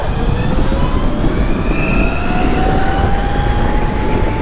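Electric 2018 Zero FXS motorcycles accelerating from a race start, a steady loud broadband wind-and-motor roar with a faint rising whine running throughout, no talking.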